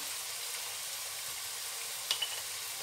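Ground keema meat with spices fries in a pan, giving a steady, even sizzle throughout with one brief clink near the end.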